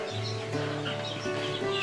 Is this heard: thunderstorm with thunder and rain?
no